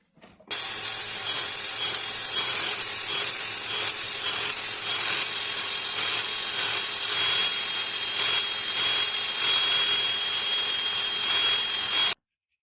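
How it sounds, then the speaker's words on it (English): A hand file lightly strokes the blade teeth of a Makita DUH754SZ cordless hedge trimmer, a close, steady series of repeated rasping scrapes in an even rhythm with no talking. "I'm just letting the weight of the tool just lightly gliding over the tooth"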